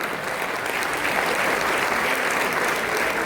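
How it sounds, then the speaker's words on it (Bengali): A packed hall audience at a teachers' meeting breaks into loud, sustained applause, a dense continuous wash of clapping from many hands that holds steady throughout. "একটা জোরে হাততালি হোক"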